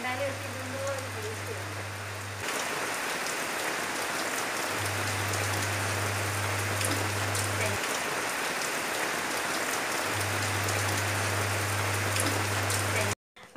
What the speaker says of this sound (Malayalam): അങ്ങനെ മഴക്കാലവും തുടങ്ങി അല്ലേ.